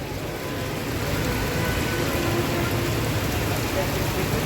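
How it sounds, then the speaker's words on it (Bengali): Steady rain falls during the first summer shower, a dense even wash of drops hitting surfaces, continuous and moderately loud with no gaps. "প্রাণ বাঁচানো স্বস্তির বৃষ্টি"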